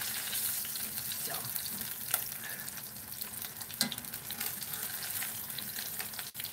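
Chicken fried steak frying in a pan, a soft, steady sizzle with occasional sharp crackles and a brief utensil tap, fairly quiet and without voices.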